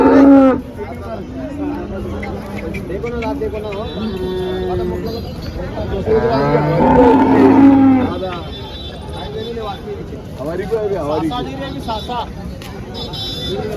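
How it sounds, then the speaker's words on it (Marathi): Holstein Friesian and Jersey cows moo loudly and repeatedly, long drawn-out calls overlapping, amid a busy crowd with people talking nearby at a cattle market in Chalisgaon, Maharashtra. "तर बघा मित्रांनो या दोन गाई बघा तुम्ही आता"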